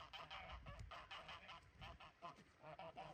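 Geese fighting on a farm honk loudly and repeatedly in harsh, overlapping bursts, close by, with a scuffling, agitated quality.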